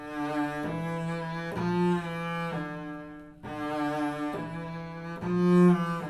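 A bowed double bass plays the Mahler Symphony No. 1 bass solo as a slow, even line of sustained notes, each stroke much like the last, with little expression.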